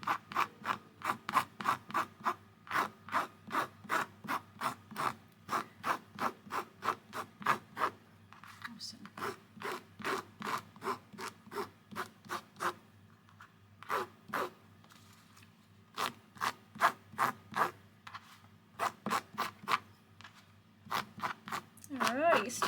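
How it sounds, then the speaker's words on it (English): Fabric on a quilt block is rubbed and buffed with rhythmic, repeated scrubbing strokes, steady brisk bursts close up that pause briefly and resume. "So I'm just buffing up the surface"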